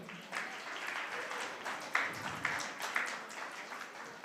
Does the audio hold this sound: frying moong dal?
no